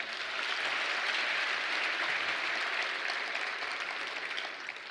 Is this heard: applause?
yes